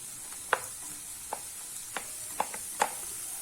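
Onion with beans, carrot, cabbage and capsicum sautéing quietly in a pan for millet noodles, a soft low sizzle punctuated by a few sharp spatula taps and scrapes.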